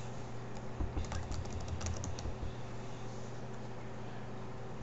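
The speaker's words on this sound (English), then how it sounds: "And again, you just type in your password." Soft keystrokes on a computer keyboard as a password is typed come in a short quick run partway through. They sit faint beneath a steady broadband hum, with no talking.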